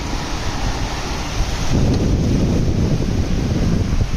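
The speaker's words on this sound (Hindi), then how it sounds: "पानी का बहुत ज़्यादा शोर है, जिसकी वजह से चक्कर आ सकते हैं।" Floodwaters of the swollen Sutlej river rush past in a loud, continuous roar, a dense broadband wash that grows heavier partway through with no voices heard.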